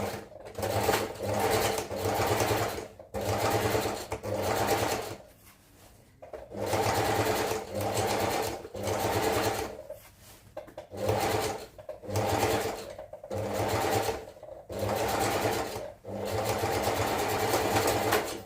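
A sewing machine stitches the crotch seam of baggy pants at half an inch, running in a string of rapid whirring bursts separated by short pauses, close and clear.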